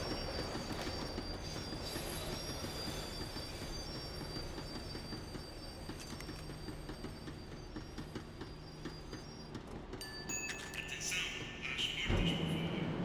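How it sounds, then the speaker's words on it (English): Tram in the video game Max Payne 3 rolling and slowing down, a continuous rumbling rail drone with wheel squeal, ending in a sharp high screech and clatter as it brakes. "The tram was slowing down, and I'd only just gotten on board."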